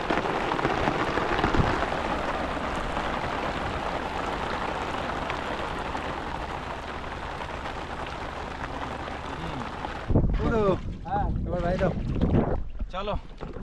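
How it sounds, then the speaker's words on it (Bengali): Heavy rain pours steadily outside by a Sundarbans river, a dense, continuous hiss and roar that fills the first ten seconds before voices break in and talk over it. "পুরো বৃষ্টি আছে দেখো বাইরে,"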